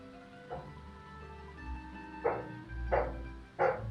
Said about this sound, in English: Okay, sorry about the dog barking.